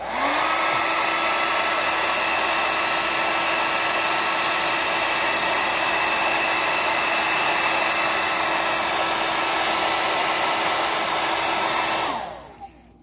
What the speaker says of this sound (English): get a hair dryer and heat it up real good